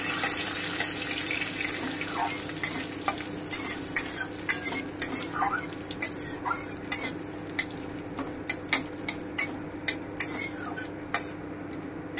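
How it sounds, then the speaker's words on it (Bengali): Bay leaves and chopped garam masala frying lightly in oil for a yogurt pointed gourd curry, with a soft steady sizzle and regular sharp clinks of a spoon stirring against the pan. "এবারে আমি গরম মশলা কুচানোটা দিয়ে দিলাম। আমি হালকা করে ভেজে নিচ্ছি।"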